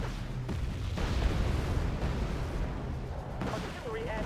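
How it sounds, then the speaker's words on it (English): Artillery fire in the video game Wargame Red Dragon booms in repeated heavy blasts. The barrage is fairly loud and dense, with a faint whistling tone near the end. "Artillery adds dignity to what would otherwise be an ugly brawl"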